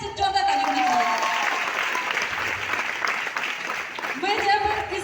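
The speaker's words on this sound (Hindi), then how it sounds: "एक बार सभी लोगों के तहे दिल से जोरदार ताली होनी चाहिए।" Loud, sustained applause from a crowd filling the room, with a voice speaking over it near the start and again at the end.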